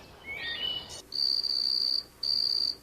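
Bright, sustained cricket-like chirping strokes, imitated by rubbing a stick on a wooden wheel: a scratchy rising rasp, then two long shrill buzzes.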